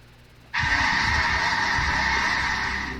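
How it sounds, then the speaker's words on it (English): A large flock of geese or similar birds honks loudly together, a dense continuous clamor starting abruptly and holding steady for a few seconds. "Unusually large bird swarm."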